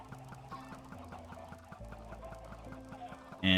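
Chickens in a Minecraft egg farm cluck in short, repeated game sound effects, faint and layered over a steady background, ending with a sudden louder burst.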